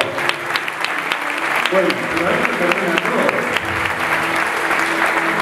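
Congregation clapping steadily at a church testimony service, a dense continuous patter with a voice talking over it throughout.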